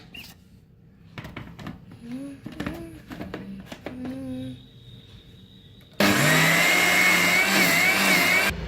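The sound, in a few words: mixer grinder running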